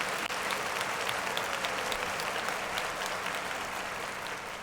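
Dense, sustained applause from a crowd, steady and fairly loud throughout, with no voices rising above it.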